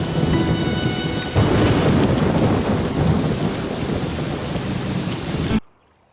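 Heavy rain pours steadily with deep rolling thunder, loud and close, continuing for several seconds before cutting off abruptly to near silence in a dubbed South Indian horror film scene.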